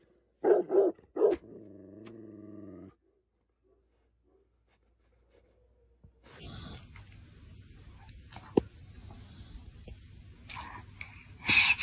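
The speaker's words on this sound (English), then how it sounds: "My dogs fight like children." Dogs fight, with a burst of sharp barks and a low sustained growl, then a long quiet stretch before a noisy scuffle with more barks near the end.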